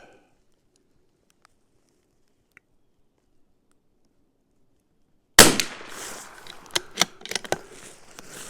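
A CZ 457 rifle fires a sharp, loud shot after a stretch of near silence, followed by several fainter clicks and cracks.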